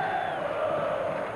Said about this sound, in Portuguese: A torcida do Cruzeiro continua gritando sem parar.